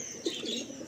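Pigeons coo briefly and close by in an Andhra pigeon loft, a soft low murmuring call lasting under a second.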